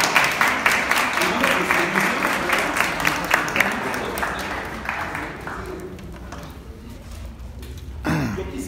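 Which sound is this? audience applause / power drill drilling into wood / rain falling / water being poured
audience applause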